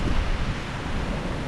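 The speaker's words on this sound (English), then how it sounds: "it's still windy as frack out here" Strong wind blowing at an outdoor campsite under trees, a loud steady rushing roar with gusty buffeting against the microphone, nothing else audible.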